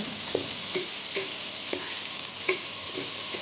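Onion and cumin frying in a pan give a soft continuous sizzle, with a regular series of light spatula taps and scrapes cutting through at an even pace.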